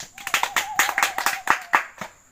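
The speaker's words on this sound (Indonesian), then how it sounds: "Tepuk tangan untuk kelompok 2." A small group of students claps for a classmate team during an athletics lesson, a brief uneven patter of hands close by with faint voices mixed in.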